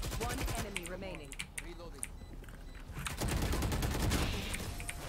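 Spraying bullets in the video game Valorant produce rapid, sharp gunfire bursts, loud and close, with a short voice heard early and a heavier final burst near the end.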